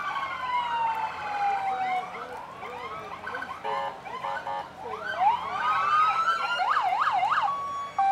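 A police truck siren wails and yelps nearby during a street parade, its pitch sweeping up and down in quick cycles over a noisy outdoor background.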